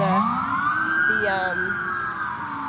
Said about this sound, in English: police are driving by